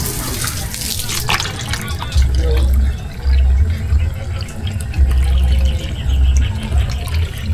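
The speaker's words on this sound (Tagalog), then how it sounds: "Lagyan natin tubig yan." Water poured and splashing during outdoor cleaning of a small hut, with a broad wet rush and low thumping bursts throughout, close and fairly loud with faint background activity.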